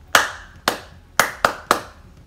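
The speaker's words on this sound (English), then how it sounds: "Can you clap after me?" Five sharp, separate hand claps in a short rhythmic pattern during a music lesson on body percussion, close and distinct with a bit of room ring after each, no voices between them.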